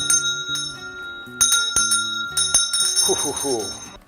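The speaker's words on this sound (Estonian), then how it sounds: "ma korra kõlistan kellukest natuke siin" A small hand bell rings at a cacao ceremony, several bright metallic strikes with ringing tones sustaining through, followed by a voice speaking near the end.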